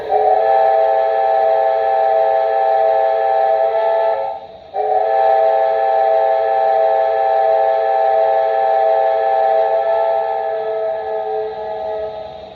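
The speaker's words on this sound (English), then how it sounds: "And the whistle." A loud, sustained steam whistle chord from a Broadway Limited model of the ATSF 4-8-4 Northern #3751, with several steady harmonic tones, briefly dipping mid-way, then holding on and slowly fading at the end.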